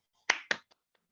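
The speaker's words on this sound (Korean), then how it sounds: "축하와 감사의 뜻을 같이 박수 한번 보내주시기 바랍니다." Two sharp hand claps, close and fairly quiet, one right after the other, for a lecturer's birthday during an online peace and unification academy session, followed by a couple of faint ticks and silence.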